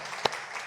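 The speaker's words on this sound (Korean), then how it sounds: "우리 환영의 박수 한번 할까요?" A church congregation gives a short burst of welcoming applause during a Sunday daytime worship service, a quick swell of hand claps that rises and fades within a fraction of a second over a soft room background.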